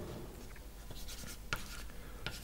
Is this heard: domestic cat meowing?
no